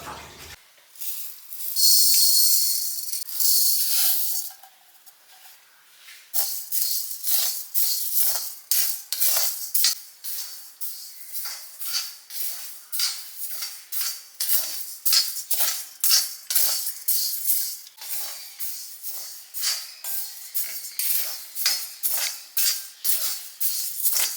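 Ordinary cooking rice is roasted in a pan while a metal spoon scrapes and stirs it in a quick, repeated rhythm of close, crisp clinks and rattles, with a brief louder rustle near the start.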